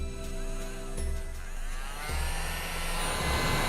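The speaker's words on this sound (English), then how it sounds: "one of my gifts at Christmas time was a little miniature vacuum. So all I have to do is flip the switch on the side." A small miniature handheld vacuum cleaner runs with a steady, droning motor whir that shifts slightly in pitch partway through, heard close and alone without speech.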